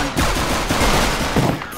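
Burst of gunfire in the video game Counter-Strike on the Inferno map, several loud close shots packed into under two seconds with no talk over it.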